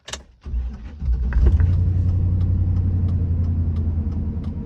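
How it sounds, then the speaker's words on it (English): A loud pickup truck engine, under repair for noise, starts after a short pause, then rumbles steadily and heavily, close by, with light rattles above the drone and no talk. "What we're working on is noise control right now because this truck's loud."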